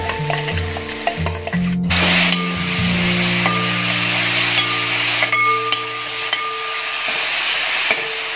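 Onions, ginger and curry leaves frying in a pan for a Kerala-style squid roast, a loud, steady sizzle and hiss with stirring, close by and without talk.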